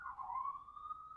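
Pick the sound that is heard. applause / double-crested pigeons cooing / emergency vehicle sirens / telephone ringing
emergency vehicle sirens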